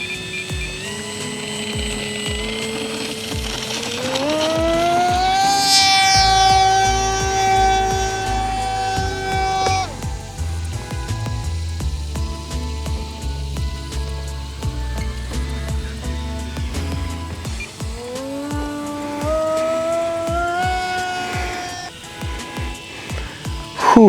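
An RC model Me-163 aircraft in flight, a steady whining electric or jet-like motor tone that rises in pitch as the throttle opens, holds, dips away and climbs again, loud and continuous for the whole stretch.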